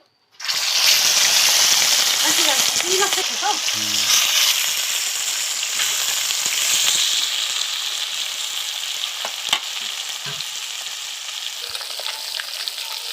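Fish sizzles loudly in hot oil in a pan as the first step of an Odia fish curry, a dense steady crackle and spitting hiss that jumps in at once and holds for the whole span, with a few sharper pops.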